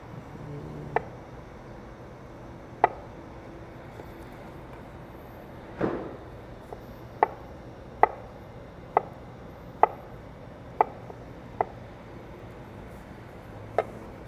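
Knife dicing a peeled avocado for a poke bowl: about ten crisp, separate chops spaced a second or so apart, fairly quiet and close, over a low room hum with no talking.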